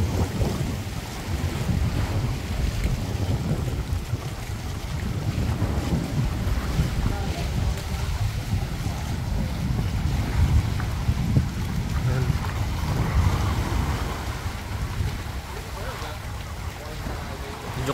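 A fishing boat rides rough open sea in stormy typhoon weather, heard from shore: steady wind buffeting the microphone over a continuous wash of waves, with faint voices underneath.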